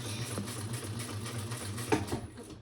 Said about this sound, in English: So I'm just top stitching it 1/8 of an inch